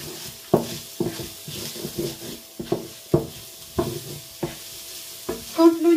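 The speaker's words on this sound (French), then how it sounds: "on fait revenir l'oignon et l'ail dans la poêle" Onion and garlic sauté in a frying pan, a soft sizzle broken by regular spatula scrapes and stirring knocks roughly every half second, close and unvoiced.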